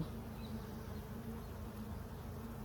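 Honey bees buzz in a dense, continuous hum during a hive inspection, close and steady with no voices.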